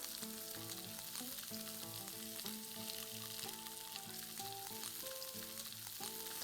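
Sliced onions and chopped garlic fry in a pan for a mixed vegetable sabzi, giving a quiet, steady sizzle that runs throughout beneath background music.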